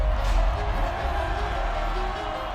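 A loud home crowd at a rodeo bull-riding event in Sunrise, Florida, roars in a thick, continuous wall of cheering with deep rumble underneath, steady and unbroken throughout.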